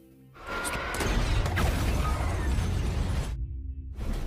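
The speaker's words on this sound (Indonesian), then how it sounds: "Scott muncul dan langsung menembak Zeus dengan peluru peledak" An explosive bullet fired at a zombie in a film detonates as a loud, sustained blast with a shattering crash, rumbling on for about three seconds before cutting off abruptly.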